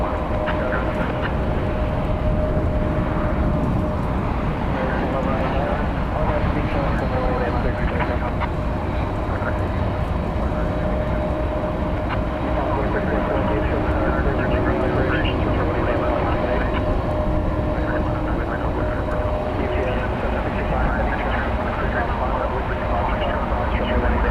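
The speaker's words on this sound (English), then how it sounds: "there's a plane coming in from El Paso, American Flight 3280, an Airbus A320" An American Airlines Airbus A320 arriving from El Paso at DFW airport at night gives a steady, broad jet roar with a faint whine, unbroken for the whole stretch, heard from the ground some distance away.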